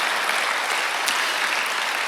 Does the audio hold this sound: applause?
yes